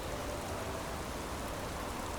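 Steady rain falling in the fantasy game Enderal, a soft even hiss of drops with no breaks and no voices, fairly faint throughout.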